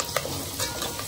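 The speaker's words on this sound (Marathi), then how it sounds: "आपण आता इथे कांदा ब्राऊन होईपर्यंत परतून घ्यायचं याला।" Finely chopped onions and curry leaves fry in hot oil in a pot for Kolhapuri misal, a steady close sizzle broken by a few scraping stirs of a spoon.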